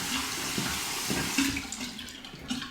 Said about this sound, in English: Shave Nation bowl under the hot water